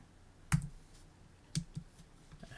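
A few computer keyboard keys are pressed to type a value in Photoshop Elements 2020, giving sparse, quiet clicks spread over about two seconds in a quiet room.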